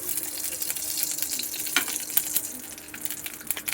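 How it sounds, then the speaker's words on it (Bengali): About a spoonful of ghee sizzles in a hot wok while pulao is being made, a soft crackling hiss with a few faint clinks, quiet and close, with no talking. "কড়াইটা বসিয়েছি, কড়াইতে একটু ঘি দিয়ে দেবো,"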